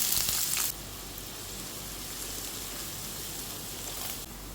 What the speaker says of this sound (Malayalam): ഇതിലേക്ക് നമുക്ക് കുറച്ച് കടുക് ഇട്ട് പൊട്ടിക്കാം